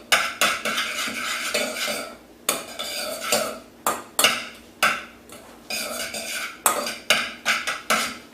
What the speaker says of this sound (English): Then we can grab our spoon and kind of mix this all together.